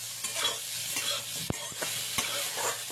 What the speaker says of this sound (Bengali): এবার বেগুনটাও ভেজে নিচ্ছি।